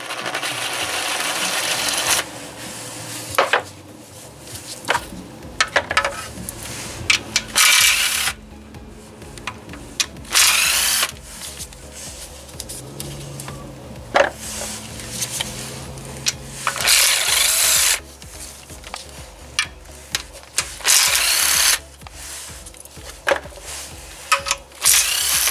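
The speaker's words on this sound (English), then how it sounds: "All the bolts will need to be removed with a 10 millimeter socket now, the ones that surround the oil pan." Intermittent power-tool whirring bursts while removing oil pan bolts with a 10 mm socket on a Kia Forte or Soul 1.8 or 2.0 engine, short loud spins separated by quieter gaps, repeated many times.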